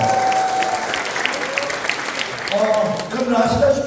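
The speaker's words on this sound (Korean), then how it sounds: "교수님들께 다시 한번 힘찬 박수 부탁드리겠습니다." Audience applause for professors at a university department's 2023 Gyeongju retreat event, dense steady clapping with crowd noise throughout, some voices and tonal sounds rising near the end.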